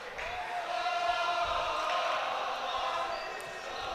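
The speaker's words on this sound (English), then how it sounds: "the crowd is going wild" A crowd at a 2019 Sarachek high school basketball game cheers in a sustained, roaring swell that rises and then holds steady, with a commentator talking over it.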